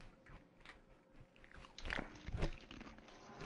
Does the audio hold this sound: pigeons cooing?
no